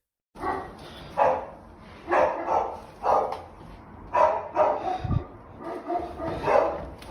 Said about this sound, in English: In the distance, you can hear the dogs barking nervously,